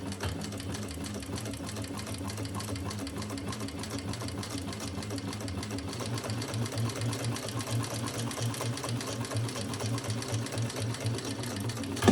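A sewing machine runs steadily and loudly for about twelve seconds, stitching a leather crossbody bag, its fast even chatter holding the same rhythm throughout with no talking.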